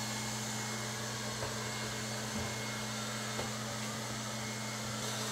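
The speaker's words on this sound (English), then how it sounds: "that brush is going under the baseboard, getting all the dust up and sweeping it into the vacuum" A Lefant M200 budget robotic vacuum cleaner runs nearby with a steady, even motor whir and a low constant hum, its brush sweeping along a baseboard, with no talk over it.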